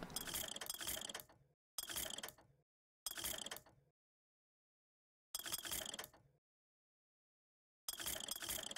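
A weapon upgrade machine in Bioshock Infinite upgrading a shotgun, a sequence of five short, loud mechanical bursts of ratcheting gears and clanks, separated by brief silences, no talking.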